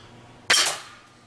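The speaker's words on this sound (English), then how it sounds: "now we're gonna use the quarter inch steel hunting shot" A pocket slingshot fires quarter-inch steel hunting shot at a target, giving one sharp, close crack that fades quickly.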